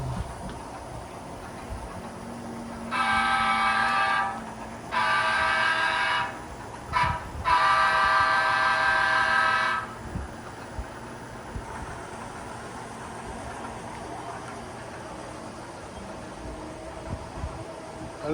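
A long freight train of seven locomotives pulling 28 cars, climbing a grade around a horseshoe bend, sounds its horn in several long blasts with gaps between them, heard from a distance over low rumbling.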